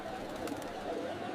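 A pigeon cooing in an animated cartoon, one soft, short coo heard over a light background.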